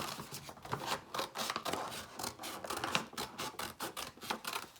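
Scissors cut a tree shape out of a paper bag, heard up close as a quick series of crisp snips and rustles of paper in a steady rhythm, with no talking.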